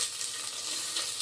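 Chopped onion, ginger and garlic sizzle in a frying pan, a steady bright hiss of oil, close and moderately quiet, with no voices.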